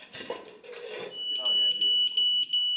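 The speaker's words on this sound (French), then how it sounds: "Le détecteur de fumée, c'est un appareil autonome" A smoke detector sounds during a fire-safety demonstration, giving loud, shrill repeated beeps in a rapid pulsing pattern that follow a brief spoken voice at the start.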